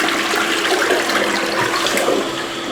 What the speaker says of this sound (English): Always give it 2 flushes.